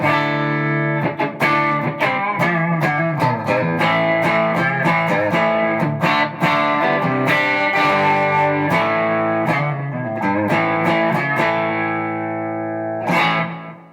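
An electric guitar runs through a TC Electronic Dark Matter distortion pedal, playing a continuous, loud, driven riff of strummed chords and sharp pick attacks for the whole stretch, ending on a final accent.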